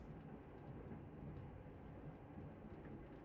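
Steady low rumble of a train in the point-and-click game Secret Files: Tunguska, a continuous dull roar that holds at an even level throughout.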